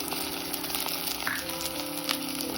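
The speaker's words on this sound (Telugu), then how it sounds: "ఉల్లిపాయలు కొంచెం వేగాక మనం గ్రైండ్ చేసి పెట్టుకున్న కొత్తిమీర, పచ్చిమిర్చి పేస్ట్ వేసేసుకోవాలి." Onions fry in hot oil with curry leaves and a coriander and green chilli paste for a chicken pepper fry, giving a steady close sizzle with a few faint stirring scrapes.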